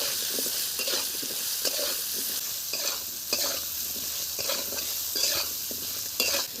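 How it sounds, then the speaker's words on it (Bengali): Potatoes with cumin seed tempering, turmeric, chilli powder and salt frying in a pan, a steady sizzle broken by repeated scraping stirs of a spatula at irregular intervals, close up with no speech. "আলুটা ভাজা হয়ে গেছে"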